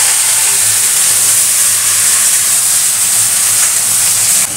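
Chili and nigella seeds temper in hot oil for a vegetable curry, giving a loud, steady sizzling hiss close up from start to end, with no voices.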